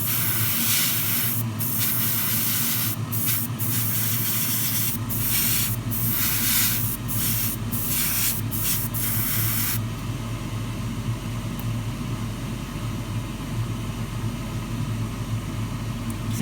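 An airbrush sprays paint onto small resin brake caliper parts for a 1:24 Tamiya Ferrari LaFerrari model, giving a continuous close hiss with brief interruptions and changes as the spraying shifts, and no voices heard.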